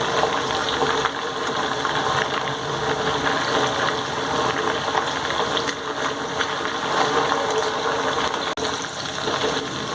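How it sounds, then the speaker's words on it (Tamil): Boneless chicken pieces deep-fry in hot oil with a dense, continuous sizzle and bubbling close by, broken by a soft knock or two. "இப்படி ரெண்டு ரெண்டா போட்டு பொரிச்சு எடுக்கணும்"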